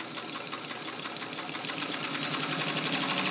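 A restored Singer 66 sewing machine modified for extra heavy work stitches with thick thread, a steady close mechanical whir with rapid rhythmic needle knocks that grows slightly louder as it runs, no talking.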